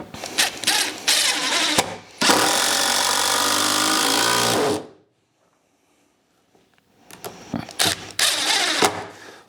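A power driver sinks heavy-duty screws into planter-box timber: loud, steady whirring runs with ratcheting clicks, a long sustained drive, then a silent pause before more short bursts.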